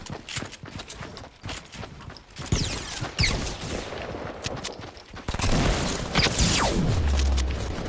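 A launcher weapon firing in an online shooter game, a string of sharp booming shots and impacts with rising intensity, ending in a louder sustained blast and whooshing sweep, with busy in-game noise throughout.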